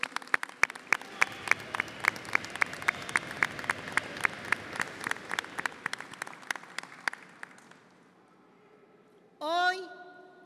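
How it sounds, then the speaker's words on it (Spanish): Steady applause from a crowd gathered for the arrival of the Delia tunnel boring machine at Bolognesi station in Lima. Claps are clear and sustained for about seven seconds, then fade, and a voice starts speaking at the end. "Un aplauso para cada uno de ustedes."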